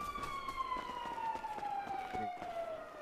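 An emergency siren wails with a slowly falling pitch, fairly faint and distant, sounding steadily for a few seconds with no speech over it.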